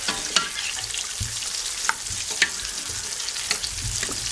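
Meat simmering in a pot for a Caribbean red-eye peas cook-up, giving a steady close sizzle and bubbling broth with scattered small clinks and stirring knocks.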